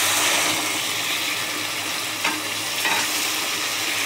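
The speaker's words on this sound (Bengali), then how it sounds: "জল দিয়ে দিলাম।" Water poured into hot, oily fish curry masala in a pan, a loud, dense hiss and bubbling sizzle that holds steady throughout, close up with no talk.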